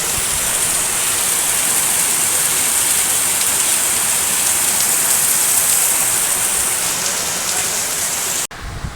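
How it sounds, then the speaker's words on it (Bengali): Heavy rain falls outside in a dense, loud, continuous roar that holds steady throughout, then drops out briefly just before the end. "খুবই বৃষ্টি হচ্ছে।"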